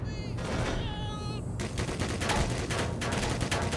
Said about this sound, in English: Are they our typical Half-Life portal turrets?